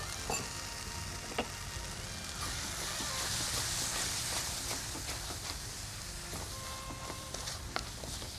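Tomato and coconut-paste masala sautéing in a pan, a soft continuous sizzle with occasional light ticks and stirring scrapes, fairly quiet and close, without talking.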